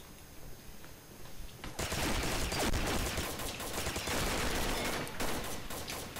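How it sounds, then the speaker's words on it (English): PP-19 submachine gun firing in Combat Arms, rapid sustained automatic bursts that kick in loudly after a quieter opening and rattle on continuously to the end. "Scorpion's PP 19 mod time. I haven't used this gun at all."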